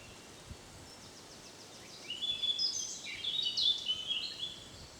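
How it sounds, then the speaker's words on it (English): Blackcap birdsong rises from about two seconds in, a bright warbling phrase of quick notes at moderate distance, with faint outdoor ambience before it. "And I think that was the blackcap."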